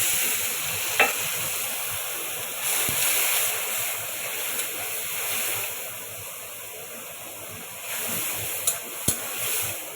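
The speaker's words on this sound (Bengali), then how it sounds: "একটু পানি দিচ্ছি" Water hits ground spices (turmeric, chili, cumin, salt) frying in a pan for an eel curry, a steady sizzle with scattered crackles and a few sharp pops and clinks of a spoon.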